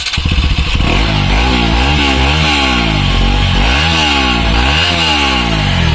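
A triple-spark motorcycle engine revs loudly and up close, the pitch climbing and falling in repeated throttle blips over a steady rumbling idle.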